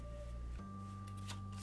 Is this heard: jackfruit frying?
no